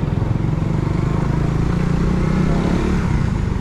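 Steady, close motorcycle engine drone while riding along a road, a loud continuous low rumble with no talk over it.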